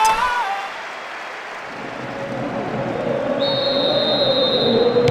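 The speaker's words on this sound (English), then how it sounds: "The referee blows his whistle" A referee's whistle in the football video game PES 6 signals half-time, a long steady high tone that starts partway through and holds to the end over a roaring stadium crowd.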